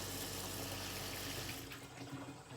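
Hot water gushes steadily from a tap in a newly plumbed home, a close, full splashing flow that thins and softens near the end.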